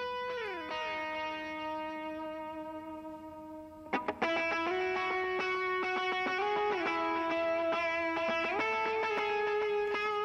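Distorted electric guitar notes with reverb on the tracks in a mix ring out as sustained, sliding tones with a burst of picked strums partway through, moderately loud and alone.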